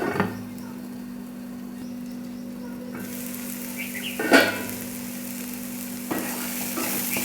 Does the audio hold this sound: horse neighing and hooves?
no